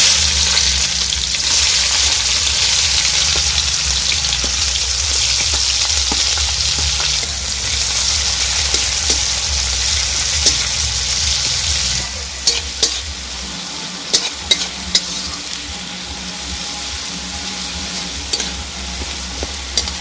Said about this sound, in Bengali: আমি পেঁয়াজটাকে ভালো করে ভেজে নেব